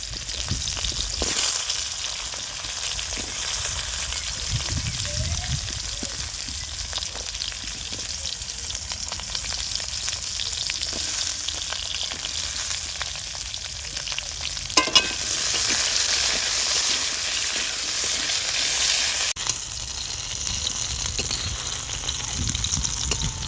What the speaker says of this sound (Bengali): সজনে ডাঁটাগুলো ভেজে নেব।